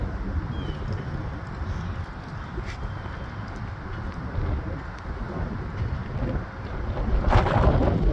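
Strong wind blows across an outdoor microphone, a steady loud low rumble and rushing that swells toward the end, with no clear voice over it.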